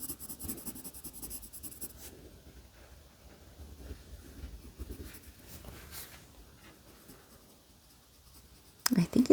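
Light, close scratching of a colored pencil coloring on paper continues in soft bursts beneath a quiet spoken voice, with a louder knock near the end.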